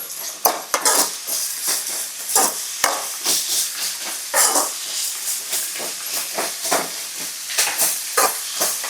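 Crushed ginger and chilies fry in oil, giving a loud, close hiss and crackle broken by frequent metal clinks and scrapes of a spoon against the pot, with no voices.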